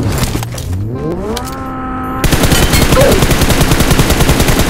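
Rapid automatic gunfire from a shooting video game, a dense continuous burst of shots that starts abruptly and stays loud, preceded by rising engine or motor tones.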